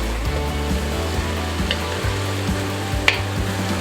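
Ground beef, 80/20, sizzles and fries in a pan with a teaspoon of butter. The crackle is steady and close, with occasional sharper pops.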